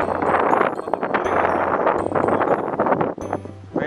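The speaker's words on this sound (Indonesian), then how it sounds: "Angin badai." Strong storm wind blows outdoors during kite flying, buffeting the microphone with loud, gusty rumbling and rustling throughout.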